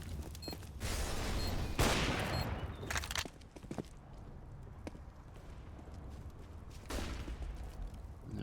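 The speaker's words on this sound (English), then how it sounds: "And Flex and Karnas with those submachine guns." Submachine guns fire in bursts during a competitive video game match: a dense, rattling volley early on, scattered single shots, then another burst near the end, all fairly quiet and distant.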